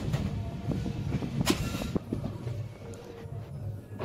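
The Sarnath Express rolls slowly along the track near a station outer, a loud, continuous rumble with wheel clatter and a brief sharper screech partway through.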